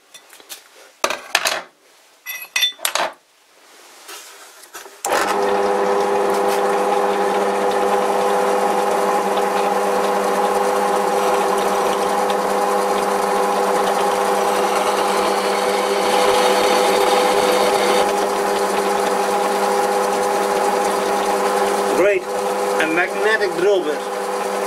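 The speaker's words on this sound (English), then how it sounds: "let's drill some holes." A magnetic drill boring holes into a cast iron faceplate for a vintage lathe, a steady loud motor whine and grinding cut after a few clanks at the start, then winding down near the end.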